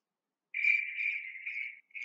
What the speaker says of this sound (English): Hedge crickets sing